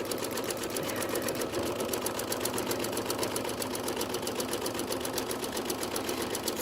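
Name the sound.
sewing machine quilting and thread work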